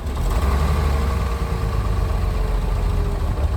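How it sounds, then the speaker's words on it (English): A cold 1965 Mercedes-Benz 230SL engine idles steadily and evenly at close range, a low, smooth rumble with no voices. "it's running at about 750 or 800 RPM. And it's idling nicely."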